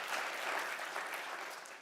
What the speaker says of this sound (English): we could give a round of applause for Dr. Sanders